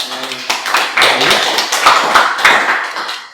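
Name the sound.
clapping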